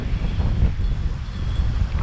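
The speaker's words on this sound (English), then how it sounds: "I hope you don't hear much wind noise" Strong wind buffeting a microphone outdoors on a very windy day, a steady low rumble with no break.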